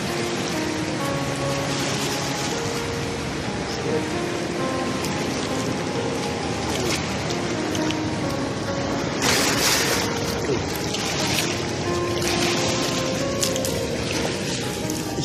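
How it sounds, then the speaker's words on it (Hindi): A very large river flows past its bank, a constant loud wash of rushing water with scattered splashes and surges, heard close and steady throughout. "यहाँ दरिया के आवाज़ की बहुत ज़्यादा है, शोर भी बहुत ज़्यादा है दरिया का।"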